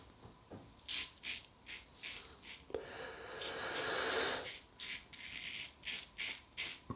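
A Wilkinson Sword flip-top safety razor scrapes over lathered skin in a quiet room, giving a series of short, soft rasping strokes with one longer drawn-out stroke in the middle.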